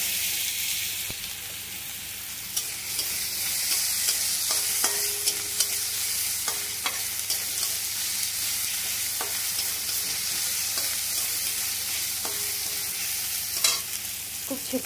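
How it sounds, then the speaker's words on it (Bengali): Ginger garlic paste frying in a pan with a steady, loud hiss of sizzling oil and scattered scraping stirs and clicks throughout, no talking. "আদা রসুনটা ভালো করে ভেজে নিতে হবে।"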